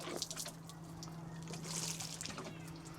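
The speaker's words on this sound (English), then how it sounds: "That's the best way to water it, to be honest." Freshly sown seeds at an allotment get a quick douse of water, giving a brief close trickle and splash over a low steady hum.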